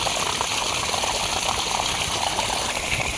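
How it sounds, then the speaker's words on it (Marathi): Steady rushing water pours continuously from three pipes of a rainwater storage system, a dense broadband gush that stays loud and even throughout with no pauses. "बघा तीन पाईप बघा पाणी येतं आहे तिथून पण येतो"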